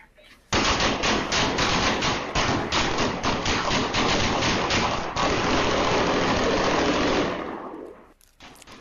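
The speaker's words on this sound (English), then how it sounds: "The sound and sights of rapid gunfire pierced the night silence Saturday on East Capitol Street." Rapid gunfire at night on East Capitol Street, roughly 90 shots from several weapons including a rifle: a dense, loud, sustained burst of cracking shots lasting about seven seconds before cutting off, with no talk.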